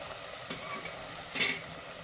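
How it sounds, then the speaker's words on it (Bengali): Shrimps fry with spices in a small pan at medium to low heat, giving a steady sizzle while a utensil stirs and scrapes them, with a brief louder scrape near the end. "মিক্স করবো সবগুলোকে আমি চিংড়িগুলোকে আরও দুই থেকে তিন মিনিট ভাজবো"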